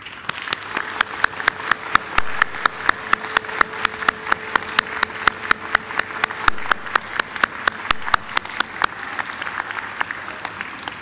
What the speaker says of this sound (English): give them a mighty round of applause